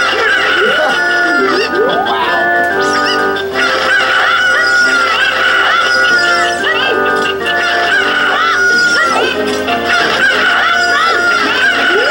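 Cuccos in Zelda: Ocarina of Time Master Quest cluck and crow in repeated rising, squawking calls over steady, loud game music that continues throughout.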